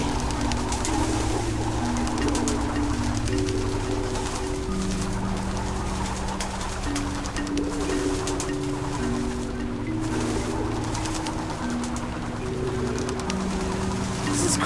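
Birds coo repeatedly in the video game Antichamber, steady overlapping dove-like calls over a constant low ambient hum.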